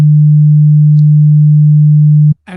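A steady 100 hertz oscillator tone, a pure, loud low hum held without change for over two seconds before stopping abruptly.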